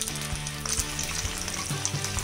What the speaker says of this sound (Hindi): तो अब हमारा जो तेल है वो गर्म हो चुका है, तो हम आलू को इसमें डाल के फ्राई कर लेंगे